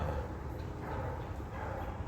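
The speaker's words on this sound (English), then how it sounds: "You can hear them barking." Two dogs bark in the woods, a steady stretch of mid-distance woofing and yipping over outdoor rustle.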